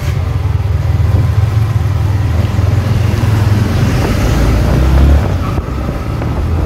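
A motorcycle engine runs steadily and loud, a continuous low rumble that swells slightly near the end, with wind noise over it, at the start of a Sunday group ride.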